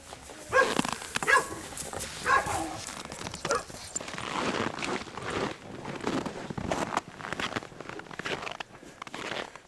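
Dogs shuffle and move about in freshly laid hay in a kennel, with close rustling and scuffing, soft thumps and a few brief clinks, the activity uneven and moderately loud, with little or no talk.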